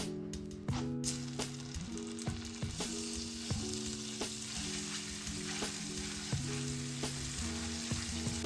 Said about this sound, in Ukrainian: тепер треба грам 30 додати сюди до нашої такої карамелі вершкового масла